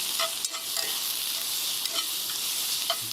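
Food sizzling in pans as tongs stir it, a steady hissing fry with a few light scraping clinks, no talking.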